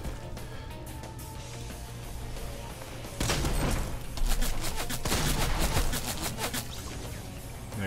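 Fortnite battle royale gunfire, a steady murmur of distant shots that breaks into a louder, denser burst of rapid shooting midway before easing off again, with no voices.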